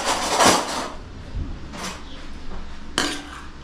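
Spoons clink against dishes in a village kitchen while yogurt noodles are served: a few separate metallic taps and scrapes, close and fairly loud, with no talk.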